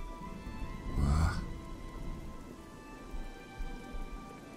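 Steady rain falls in the video game Oblivion, a soft continuous hiss with a brief louder rumble near the start, fairly faint throughout.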